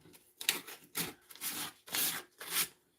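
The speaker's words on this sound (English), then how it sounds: "Let's get him sanded down here." A wooden carving is sanded by hand, with about five rough, scratchy back-and-forth strokes, each a short rasping burst, close and clear with no talk.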